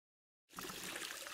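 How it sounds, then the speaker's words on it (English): Cold water filling a red mop bucket on a double-bucket cleaning trolley, a steady rush that starts suddenly after a moment of silence and runs alone. "fill the red bucket to 1/3 with cold water"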